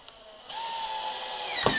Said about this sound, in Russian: Устанавливаем замок вверх ногами и притягиваем его саморезами, которые шли в комплекте